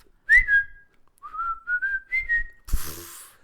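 A lone whistler carries a cheerful melody in clear, sliding phrases with short pauses, ending in a sudden burst of breathy noise.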